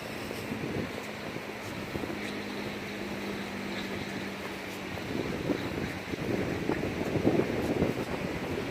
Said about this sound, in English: The wind is definitely kicking.